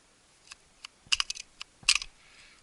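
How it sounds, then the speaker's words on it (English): A magazine is dropped from a Grand Power P11 pistol, giving a short series of close, crisp metallic clicks and a light clatter in a quiet setting. "I'm gonna drop the mag."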